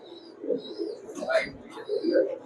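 Pakistani Highflyer pigeons coo in soft, low repeated murmurs, close by and continuous, with faint higher chirps mixed in.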